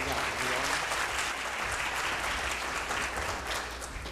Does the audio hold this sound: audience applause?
yes